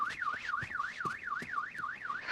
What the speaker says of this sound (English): That's the security alarm.